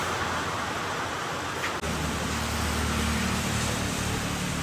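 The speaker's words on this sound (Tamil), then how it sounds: "பாருங்கள் எப்படி பெய்யுதுன்ட்டு, நிற்காமல் பெய்யுது காய்ஸ் மழை." Heavy monsoon rain pours nonstop in a hilly area, a dense, steady hiss that holds constant and loud throughout, with a low rumble joining partway through.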